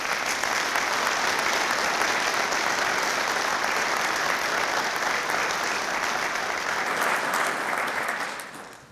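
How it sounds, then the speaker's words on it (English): Sustained audience applause at a police awards ceremony, a loud, dense wash of many hands clapping that holds steady for several seconds before tapering off at the end. "I would ask for a round of applause for their efforts."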